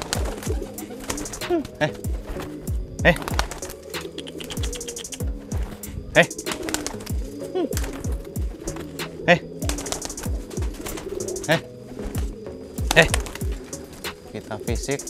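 Pigeons coo repeatedly at close range, low throaty calls recurring throughout, mixed with scattered clicks and background noise.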